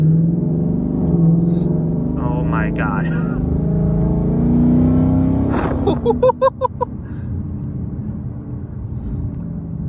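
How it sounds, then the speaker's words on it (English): A deep, loud Ford Mustang exhaust in track mode rumbles continuously while revving, with a sharp burst of crackling pops partway through; a person exclaims briefly over it. "So the exhaust in track mode, everything else is in sport mode"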